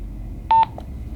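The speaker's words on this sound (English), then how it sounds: "You'll hear a beep, and then the PROG will disappear off your display." A single short electronic beep from a Motorola CLS two-way radio confirming saved settings, clear and close over a quiet background hum.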